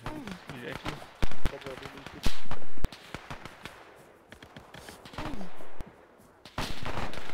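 Rapid gunfire in Arma 3, a military game, with several loud bursts and single shots crackling in close succession amid ongoing battle noise, while voices talk between and under the shots.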